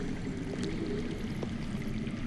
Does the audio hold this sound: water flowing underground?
yes